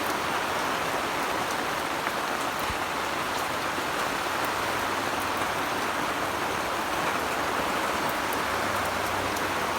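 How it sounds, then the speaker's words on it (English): Heavy rain pours steadily outside, a dense unbroken hiss of drops hitting surfaces, loud and constant throughout with no voices. "did you know I actually love the rain?"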